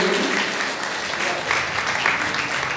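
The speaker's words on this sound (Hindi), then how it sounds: "तालियां जरा जोरदार हो गई।" Loud, steady audience applause at an Arya Samaj annual festival, a dense continuous wash of many hands clapping throughout, with no gaps.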